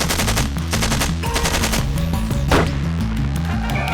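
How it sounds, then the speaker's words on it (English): Submachine gun fire in a battle involving Chinese troops, loud rapid bursts of shots layered over a dense mix of booming effects and music. "The Chinese are predominantly equipped with a submachine gun. So they're delivering a lot of fire."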